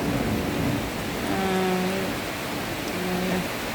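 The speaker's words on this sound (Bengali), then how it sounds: "আর বড় বড় বিদ্যুৎ চমকাচ্ছে, সাথে মেঘের গর্জন।" Heavy rain roars steadily throughout with a low thunder rumble underneath, and faint tonal hums drift in and out of the wash, heard from a balcony.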